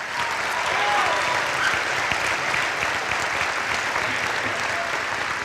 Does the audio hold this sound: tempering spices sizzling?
no